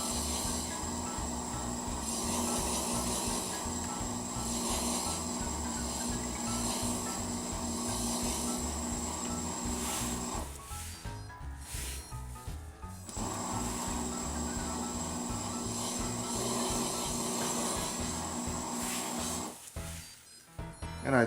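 A wood lathe turns a French rolling pin at 150 RPM while a tool scrapes and rubs the wood in a loud, continuous, rhythmic grind, briefly pausing twice before resuming.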